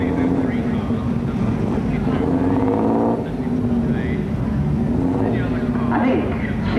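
A 5-litre Sunbeam historic racing car at the Brighton Speed Trials gives a loud, sustained engine drone that holds steady, with a slight dip in pitch midway.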